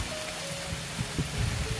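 Steady rain falls on surfaces outdoors, a soft even hiss with a few louder drops toward the end, no voices.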